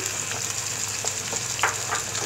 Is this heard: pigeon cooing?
no